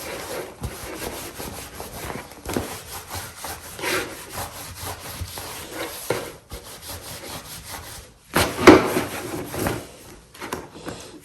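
Makeup brushes being wiped clean with rhythmic scrubbing and rubbing strokes, close up and moderately loud, with a louder burst near the end.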